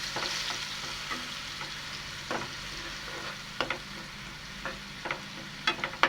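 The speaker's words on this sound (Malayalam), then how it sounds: "ഇനി നമുക്കിത് നന്നായിട്ടൊന്ന് വഴറ്റാം." Crushed garlic, green chili, onion, tomato and curry leaves sauté in hot oil, a soft steady sizzle broken by scattered scraping clicks of a stirring spoon.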